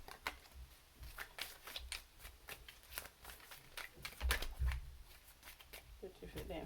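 Tarot cards are shuffled by hand in a string of quick, crisp riffling bursts, close and fairly quiet, with a soft voice talking over the shuffling.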